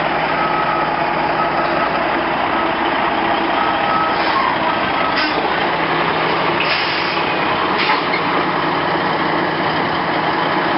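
A large slurry truck backs up along a narrow residential street, its reversing alarm beeping in a regular repeated pattern over a loud, steady diesel engine rumble close by.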